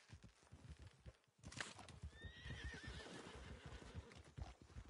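A frightened horse in Red Dead Online lets out a sharp, shrill whinny, set against steady clopping hooves with no speech.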